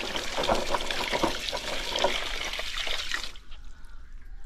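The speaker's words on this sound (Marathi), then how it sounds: "म्हणून ना आपण थोडं हे धुवून घ्यायचं" Drumstick pods being washed under running tap water, a steady close splashing and trickling stream with scattered thumps of handling that stops abruptly near the end, leaving quiet room tone.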